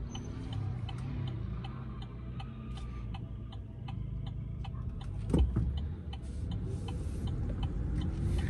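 A 2020 Chevrolet Bolt EV electric car accelerating gives off a low, steady drone, with rapid regular ticking over it and a brief thump midway, heard from inside the cabin.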